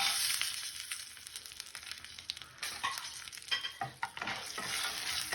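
Dried red chillies and roasted peanuts are stirred and roasted in a pan, a bright steady sizzle with intermittent scraping and rattling strokes, fairly quiet and without speech.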